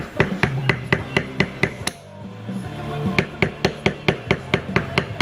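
Mallet tapping a metal beveling tool into leather, a brisk run of sharp, evenly spaced knocks up close, pausing briefly before resuming at the same rhythm.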